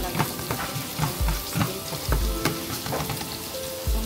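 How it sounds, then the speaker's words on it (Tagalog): Sliced garlic and onion fry in a pan, giving a close, continuous sizzle broken by regular low thumps and scrapes of stirring. "lagyan na natin yung sliced garlic at saka onion"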